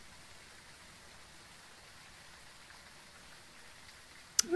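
Rain heard inside a basement in the video game Phasmophobia, a faint, steady wash of falling-water hiss throughout, ending in a brief sharp burst of louder noise.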